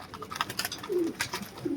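Pigeons in a breeding loft coo softly and close by, a few low warbling calls over faint rustling and wing shuffling, with no talk.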